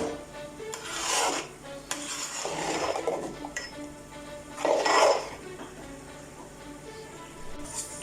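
Semolina halwa is scraped out of a pan for serving, giving several close raspy scrapes of a metal utensil against the pan, separated by pauses.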